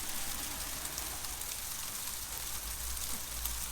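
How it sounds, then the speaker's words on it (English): Small, crunchy hail-like raindrops pattering outdoors, a dense, even hiss of rain on surfaces with faint scattered hits, steady throughout and no talking. "It's just crunchy raindrops."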